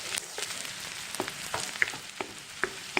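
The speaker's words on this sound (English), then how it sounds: "I took an entire block of garlic and give this a good stir" Chopped garlic sizzles in butter in a pan while being stirred for butter garlic prawns, with a steady frying hiss broken by light scraping clicks.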